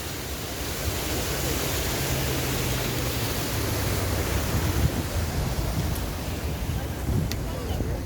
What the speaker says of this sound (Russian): Я люблю вот такой шум воды. Шум водопада.